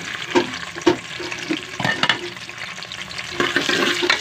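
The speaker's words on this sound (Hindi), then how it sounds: "ऑयल मेरा गर्म हो चुका है, इसमें मैं डाल दूंगी प्याज" Onions dropped into hot oil with ginger and garlic, frying and being stirred, for a traditional sobat dish: crackling sizzle near the pan, punctuated by several sharp utensil scrapes and clinks, with no talking.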